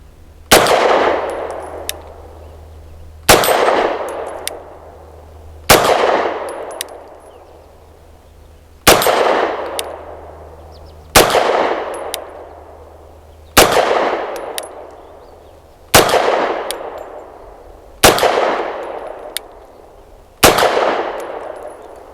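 An FB Radom Vis 100 M1 pistol fires nine evenly spaced shots at a steel target about 25 yards away, each sharp bang followed by a ringing metallic clang that slowly fades.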